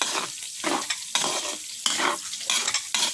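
Onion and garlic fry in a little pork fat in a pan, a steady loud sizzle broken by repeated scraping stirs in a loose rhythm, close up with no talking.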